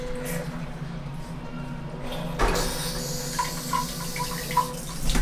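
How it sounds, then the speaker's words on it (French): A Japanese toilet bidet switches on with a sudden spray of water that continues as a steady hiss after a low hum, with a few faint tones over it. "Ça ici, c'est pour c'est pour te laver les fesses."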